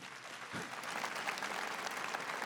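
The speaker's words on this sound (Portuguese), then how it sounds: "Você quer aplaudir? Aplaude direito." A church congregation claps during Mass, a fairly faint but steady patter of many hands that swells slightly after the start and holds.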